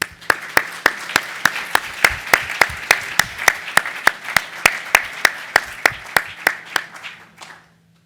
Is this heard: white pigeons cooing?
no